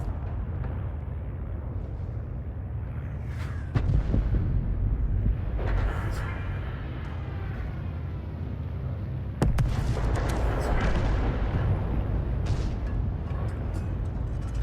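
FV3805 self-propelled artillery firing in World of Tanks: two heavy booms several seconds apart, each followed by a long rumbling tail over a constant low engine drone.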